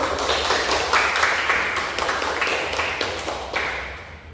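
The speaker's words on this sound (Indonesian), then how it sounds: "Kita berikan tepuk tangan dulu." An audience in a classroom guidance session applauding, steady crowded clapping that fades slightly toward the end, with no talking over it.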